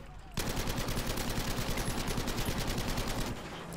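A .30 cal machine gun in the video game Battlefield V fires one long, steady, fast-rhythm burst at a Stuka dive bomber, loud and close, starting abruptly and trailing off near the end.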